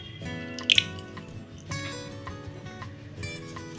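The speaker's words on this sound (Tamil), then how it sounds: "முதல்ல 1/4 கப்பு நெய் போடுறேன்." Ghee goes into a bowl for making biscuits, producing a soft, close wet plop and a squishy slide. A couple of sharp clicks sound early on, then faint kitchen handling noise follows, with no talking.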